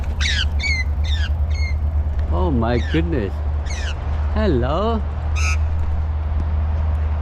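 A bird repeatedly squawks and caws harshly at close range as it harasses a cyclist, loud rising and falling calls in bursts over steady road and wind rumble, with a person speaking in surprise between calls.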